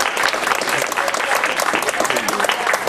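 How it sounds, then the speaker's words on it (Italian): Dense, loud applause from a gathered crowd at a 102nd birthday celebration for an elderly woman in Palizzi, continuous clapping filling the space with some voices mixed in. "Quindi un altro applauso"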